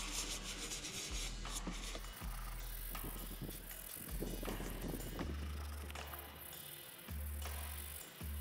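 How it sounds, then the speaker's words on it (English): Stiff brush scrubbing a designer-toy part coated in Simple Green degreaser, rapid rasping back-and-forth strokes in short bursts with brief pauses, close and fairly quiet, with a low hum underneath. "just gonna grab the brush and just start scrubbing on it."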